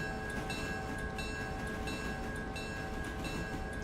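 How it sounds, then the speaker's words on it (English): Steam train rolling along the track in the Railroader railway simulation game, a continuous dense rumble with faint tonal hums, steady and fairly quiet throughout with no voices. "I shall just route the steam train into the other side of this track."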